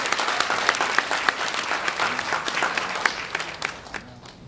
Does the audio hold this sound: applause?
yes